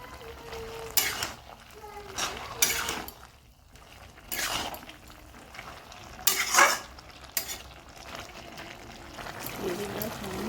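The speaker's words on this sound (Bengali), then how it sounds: "লাউ শাকটা ফুটে উঠেছে, পুরোটাও সেদ্ধ হয়ে গেছে। এবার আমি বড়াগুলো দিয়ে দিলাম।" Bottle gourd greens cooking with fritters added to the pan, giving a steady sizzle broken by scraping and stirring clatters, with a voice speaking over the kitchen noise.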